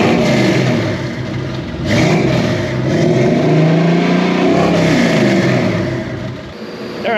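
Bill's truck engine revs loudly and close by, a steady rumbling drone that swells and eases several times over about seven seconds, with no talking.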